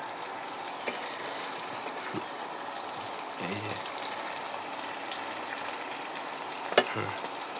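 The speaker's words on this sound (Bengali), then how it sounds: "এখনও মাংসটা কষানো হচ্ছে" Chicken sautés in a pan with a continuous, fairly quiet sizzle and hiss, broken by occasional stirring scrapes, with a faint voice in the background.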